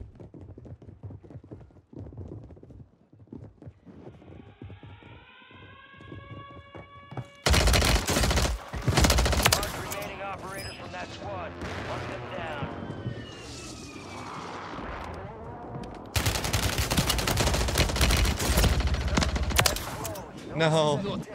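Rapid bursts of Striker 9 submachine gun fire ring out in a Call of Duty match on Rebirth Island, loud sustained volleys with pauses between, over game ambience and faint voices.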